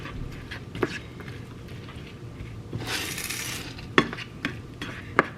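A spoon stirs apple pie filling in a pot over medium heat, making soft scraping and swishing with a few sharp metallic clinks against the pot and a brief bubbling hiss midway.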